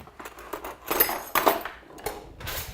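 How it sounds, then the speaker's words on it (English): A teaspoon is pulled from a set of cutlery with a few quiet metallic clinks and rattles, close by and irregular. "I'm just going to grab a teaspoon."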